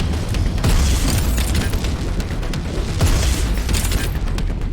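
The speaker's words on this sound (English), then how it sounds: "this is a grenade launcher" Grenade launcher blasts in the Prodeus shooter game, a dense run of booming explosions that roll into each other for the whole stretch, loud and close with no pauses.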